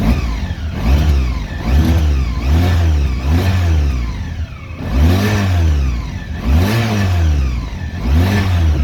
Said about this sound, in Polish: tu jest regulacja obrotów silnika dobra rozgrzał się, chwilę pochodził